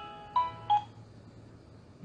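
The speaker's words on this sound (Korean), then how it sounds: "왜 내 전화 아무도 안 받지?" Two short telephone dial tones or beeps sound close together and fairly quiet, followed by a low hum, as a phone call goes unanswered.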